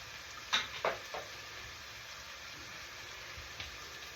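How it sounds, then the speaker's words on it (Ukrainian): Cooking oil pours into a hot pan with a few short sizzling bursts, then settles into a quiet, steady hiss of frying. "беремо олію і поливаємо."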